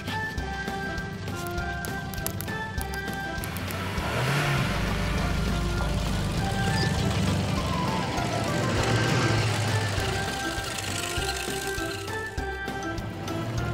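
Cartoon tow truck and pickup truck rolling out of a garage, a steady car engine hum with a revving swell midway, mixed under bright background music throughout.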